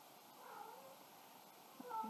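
A house cat gives soft, faint meows and little chirps at close range in a quiet room, a low murmur running under them.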